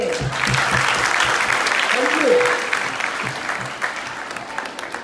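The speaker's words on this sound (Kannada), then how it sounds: "ಈ ಒಂದು ಕಾರ್ಯಕ್ರಮ ಮಾಡಿದ್ದಕ್ಕೆ ಮೊದಲು ನಿಮ್ಮೆಲ್ಲರ ಕಡೆಯಿಂದ ಚಪ್ಪಾಳೆ" An audience at a school counselling programme event claps together in a burst of applause that lasts most of the stretch, then thins. A speaker's voice carries over it.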